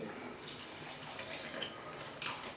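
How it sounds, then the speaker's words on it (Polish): Water pours steadily into a bowl of bread dough mixed with a fermented overnight starter, a continuous soft splashing trickle close by with no talk. "Dodajemy resztę wody."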